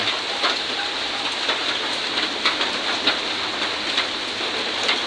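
Steady, heavy rain hisses continuously, with scattered drops pattering distinctly on a nearby surface throughout.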